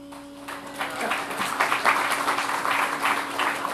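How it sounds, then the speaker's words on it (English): An audience applauds during a speech by Newt Gingrich, the clapping swelling after a brief lull into a full, steady round with a faint hum beneath it. "you don't always get applause for Teddy with those kind of quotes"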